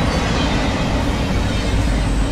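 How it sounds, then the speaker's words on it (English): Freight cars, including an empty car, roll by on the Lehigh Line, producing a continuous close rumble and hiss of wheels on rail, even in level and loud throughout with nothing else over it. "If you're sleeping, you just missed that train."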